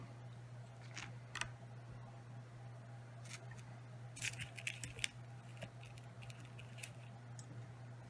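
Scissors snip off thread in a few quiet, sharp clicks while a fly-tying wing spinner lure is being wrapped, faint against a low steady hum.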